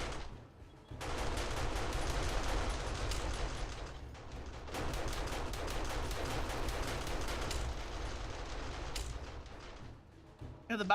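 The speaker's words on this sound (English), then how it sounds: "You got one in the trench I'm taking some shots at." Dense rapid gunfire in the game 7 Days to Die, shooting at a target in a trench: sustained automatic bursts run for several seconds, break briefly, then resume before trailing off.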